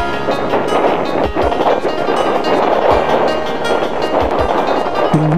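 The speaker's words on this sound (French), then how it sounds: "Il fait un vent terrible." Strong wind sweeps over the Col de la Colombière mountain pass at 1618 m, a loud, continuous broadband roar with occasional low thumps of buffeting and no speech.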